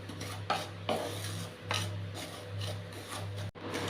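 Semolina is stirred in a pan over raised heat for upma, with repeated rough scraping strokes of a spoon against the pan bottom in an uneven rhythm, close by, over a steady low hum.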